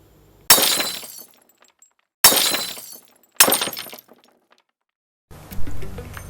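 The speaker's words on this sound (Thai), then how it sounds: "เสียงแก้วแตก" Glass smashes three times in sharp, loud crashes, each followed by a short tinkle of falling shards, and a final rustling clatter of debris closes the sequence; no voices.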